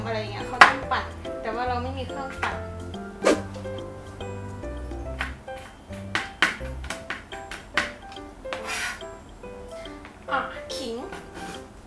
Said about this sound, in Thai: หั่นผัก หั่นกระเทียม